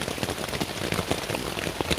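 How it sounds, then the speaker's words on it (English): Heavy rain lashing down on a Luxe sil Hexpeak V4 tent pitched in deep woods, a loud, dense, continuous patter of drops drumming on the fabric, close up and unbroken. "It's absolutely lashing it down. Really heavy rain."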